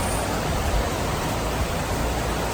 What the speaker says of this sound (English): it's supposed to rain and I'm hearing rain